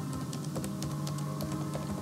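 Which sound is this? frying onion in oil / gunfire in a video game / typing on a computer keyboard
typing on a computer keyboard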